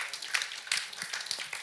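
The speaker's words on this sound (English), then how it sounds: "So let's give a huge round of applause." A short, quiet burst of audience applause at a talk, with scattered hand claps rising and falling over under two seconds, with no voices.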